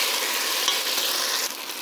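Meatballs fry in a pan with added sugar to caramelize them, giving a loud, continuous sizzle close by with a brief stir, and no talking.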